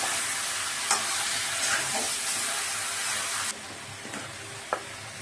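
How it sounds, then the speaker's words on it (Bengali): Chopped onion sizzles and fries in a pan for a Bengali chicken stew, with a steady dense hiss broken by a few sharp scrapes of stirring; no one talks. "নেড়ে চেড়ে নেব। পেঁয়াজটা একটু ভাজা ভাজা হয়ে যাবে।"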